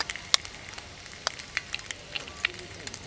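Egg and bacon frying on a small camping barbecue over a little fire, with quiet, steady sizzling broken by scattered crisp pops and crackles throughout.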